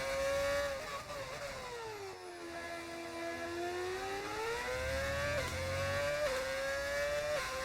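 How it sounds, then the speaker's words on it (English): V8 race car engine in an F1 video game at Imola, revving high with rising and falling pitch as it shifts through gears, a loud, sustained whine with a brief dip in pitch and a gear change near the end. "Is that the V6? No, we're using a V8 engine."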